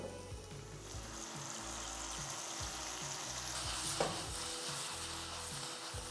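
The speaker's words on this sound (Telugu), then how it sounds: "మంచిగా ఈ టమాటా ఆనియన్ ఈ మసాలాతో మంచిగా మగ్గేలా ఫ్రై చేసుకుందామండి" Onion, tomato, spices, green chilli and salt fry steadily in a pan, giving a continuous close sizzle with soft stirring scrapes and one brief louder clink near the end.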